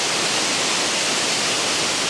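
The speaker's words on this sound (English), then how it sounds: "Something about a waterfall that, like the ocean, I guess, it's just that sound" Kondilla Falls, swollen after a massive rainstorm, gives off a constant, full, hissing roar close by, with no talking.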